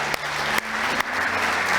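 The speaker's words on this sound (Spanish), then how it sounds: "Dale un aplauso al Señor." A church congregation claps together during a Spanish-language sermon, giving continuous, loud, even applause from many hands throughout the short stretch.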